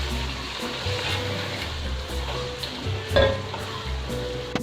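Chicken tikka tipped into a hot pan and stirred through, giving a loud, continuous sizzle with scraping and a brief clatter of the spoon partway through.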